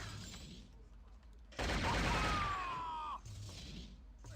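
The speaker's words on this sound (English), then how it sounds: "There is no reload button in this game, so I have to switch weapons in order to reload." A weapon fires in the video game Shogo: Mobile Armor Division, a loud burst of gunfire lasting about a second and a half over quieter game ambience.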